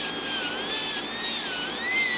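A dental drill bur preparing a tooth for a metal-free crown, a continuous high-pitched whine that wavers slightly in pitch as it presses and eases, close and loud, with no talking.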